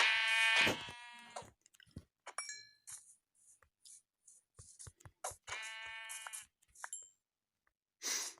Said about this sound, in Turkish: Şu koyunları öldüreceğim.